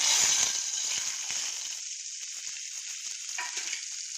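Ingredients for cucumber peel chutney tossed into hot oil in a pot, a loud burst of sizzle with a few stirring knocks at first, settling into a softer steady hiss.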